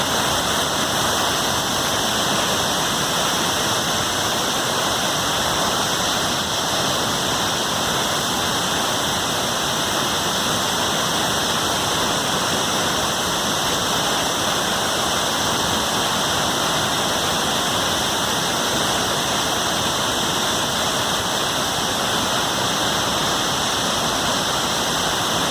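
The Zacatlán waterfall at Quetzalapan in Mexico roars as a loud, steady rush of falling water, a constant broadband wash that holds unchanged throughout with no voices.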